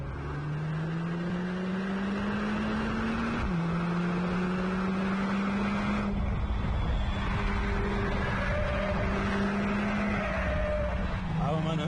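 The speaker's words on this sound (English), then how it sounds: "You can still hear that four-cylinder engine rumble in front." A Mercedes-AMG four-cylinder engine rumbles through its exhaust in a continuous, moderately loud drone, its pitch climbing gradually, dropping sharply once as if shifting gear, then rising again.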